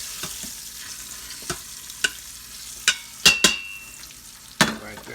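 Turkey wings searing in an Instant Pot, a low steady sizzle with a few sharp clinks and scrapes from a utensil against the inner pot, close and moderately loud.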